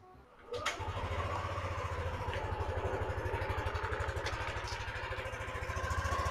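A Yamaha Nmax scooter engine cranks over and catches after about half a second, then settles into a steady, close idle with an even low pulsing rhythm that continues throughout.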